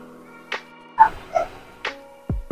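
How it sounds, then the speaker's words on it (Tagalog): Dogs barking nearby indoors, several separate short barks and yips spaced across a couple of seconds over a faint background hum. "Ingay ng mga aso, sorry."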